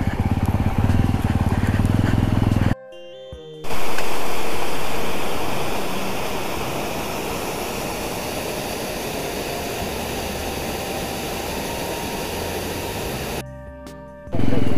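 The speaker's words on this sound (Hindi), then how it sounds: "ये जाते हुए काफी सारा पानी आ गया, मेल्ट हो रहा है ना पानी।" Meltwater from snow rushes across a high mountain road near Sach Pass, a loud broadband roar of flowing water with a motorcycle engine running beneath it, broken by two short silent gaps.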